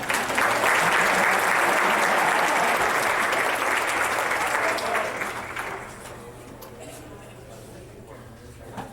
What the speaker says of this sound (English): we should get a round of applause for Mary